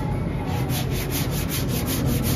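Rhythmic rasping of 80-grit sandpaper scrubbed back and forth over the painted metal door of a Honda Civic, steady repeated strokes, close and fairly loud, no voices.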